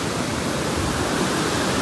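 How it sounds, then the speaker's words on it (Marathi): Heavy rain pouring beside a river running full in flood, a loud broadband wash of roaring water with no breaks, close and all-enveloping. "बघा किती पाऊस फुल पडतो इकडं."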